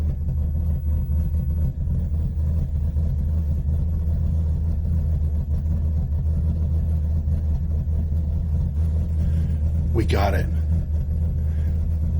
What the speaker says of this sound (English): What you're hearing is the flame